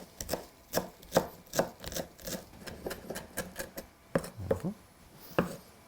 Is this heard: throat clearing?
no